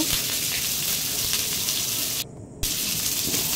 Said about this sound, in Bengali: কড়াই সর্ষের তেল দিলাম। পেঁপে কেটে রেখেছিলাম, পেঁপেগুলো আমি লাল লাল করে ভেজে নেব।